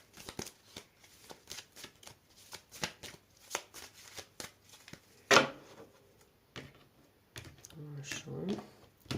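Tarot cards riffled and shuffled by hand, a long run of quick papery flicks up close, then a sharper slap as the deck is squared and a brief voice near the end.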